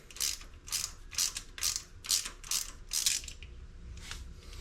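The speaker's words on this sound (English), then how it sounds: "This is an 18, so let's unscrew our stud." Ratchet wrench turning out an 18 mm exhaust manifold stud on a Ram 1500, giving seven or eight close, bursty ratcheting strokes in a steady rhythm before quieter clicking, with no talk.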